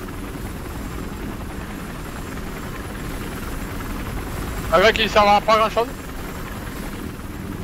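A helicopter in Battlefield Hardline holds a steady rotor drone through the whole stretch, with excited voices talking over it partway through.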